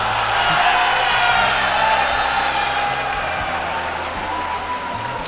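A large live crowd at an esports StarCraft II event cheers, whoops and applauds loudly and steadily, a dense roar of clapping and shouting that fills the space throughout.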